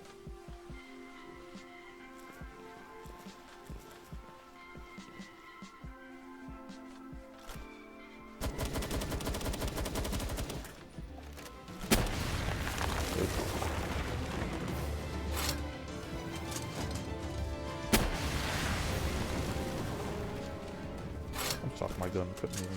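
Rapid bursts of video game gunfire crackle through the second half, dense and loud over background game sounds, with occasional heavier booms and a voice talking throughout.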